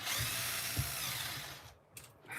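A power drill whirs nearby while taking screws out of a hobby-grade RC car, a continuous buzzing spin with a couple of short bumps before it winds down and briefly restarts.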